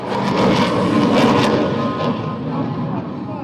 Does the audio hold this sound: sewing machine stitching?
no